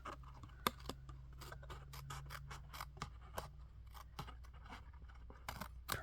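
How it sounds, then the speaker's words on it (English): Scissors trimming paper for a patterned tag craft, with a close series of crisp snips and rustling cuts, irregular in rhythm, fairly quiet against a low hum. "we'll trim this off"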